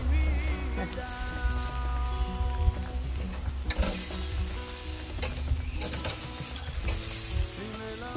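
Peri peri chicken, flattened and laid bone side down on a fire, sizzles and spits steadily and fairly close, a constant crackling fry layered under background music without any talk.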